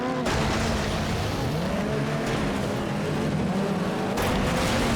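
A heavily damaged, nearly totaled race car drives at speed during a racing event, its engine a loud, continuous close drone whose pitch rises and falls as it accelerates and lifts, with no speech over it.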